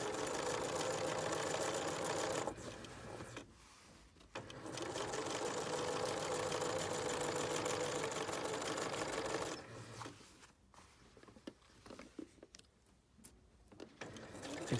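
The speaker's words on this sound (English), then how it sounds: "I'm just sewing at 1/2 inch." A sewing machine stitches a bustier at a half-inch seam allowance, whirring steadily and close for long runs with a brief stop, then finishing in shorter, softer intermittent bursts.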